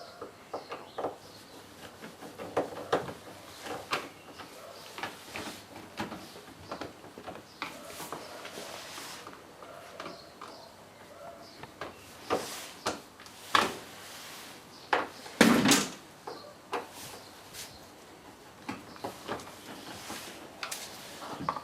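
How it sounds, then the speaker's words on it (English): Screws come out and the lower kick plinth is pulled off a Samsung RS21 American fridge freezer. Close, scattered clicks, scrapes and plastic knocks run throughout, with a sharper clatter near the end and no talking. "So remove these screws and remove the lower kick plinth."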